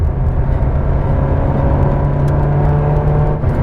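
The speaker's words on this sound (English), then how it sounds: "you've got the best engine noise of any car." A Ferrari 360 Challenge Stradale engine runs loud and close with a steady, throaty drone that holds level the whole time, with no clear rise or fall in revs.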